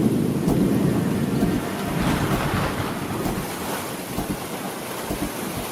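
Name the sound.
thunder of an approaching storm in the Amazon jungle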